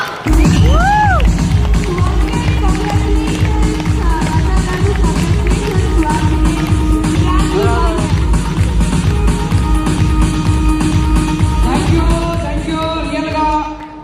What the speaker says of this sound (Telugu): ఒక్కసారి అందరూ కూడా కలిసి గట్టిగా క్లాప్ చేద్దామా?